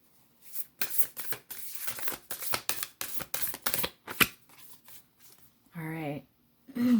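Tarot cards are shuffled in quick, close riffling bursts, followed by a short spoken voice near the end.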